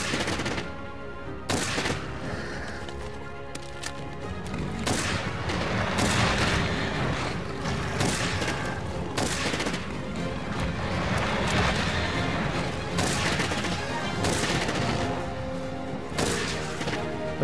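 Rapid bursts of gunfire in Monster Hunter World crack repeatedly over a dense, noisy backdrop of explosions and crashes, loud and sustained throughout.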